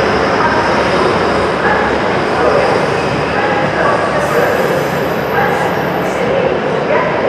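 Grand Central passenger train, class 180, bound for Sunderland at York, rolling past as a steady loud broadband rumble with a high whine joining near the end, and voices murmuring underneath.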